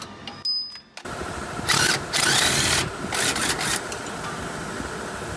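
A power tool undoes a 17 mm sway bar bolt during a coilover install on an Acura TSX. It gives several loud, close whirring bursts of rising and falling pitch, separated by short pauses, with no talking.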